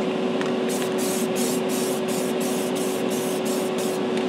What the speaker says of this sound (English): we're going to apply our primer coat to the hood and then the body in quick succession